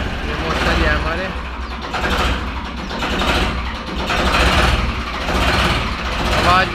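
An original-condition Ford 3600 tractor runs nearby with a loud, steady diesel chug that swells and eases in a slow, regular pulse.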